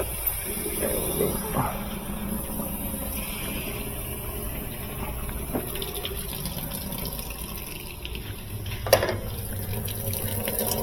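Water gushes steadily into a high-efficiency washing machine drum as it turns, wetting the clothes, a continuous rushing fill with occasional clunks and knocks, fairly quiet and close.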